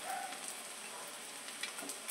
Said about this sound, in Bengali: আমি লাল করে ভেজে নেবো।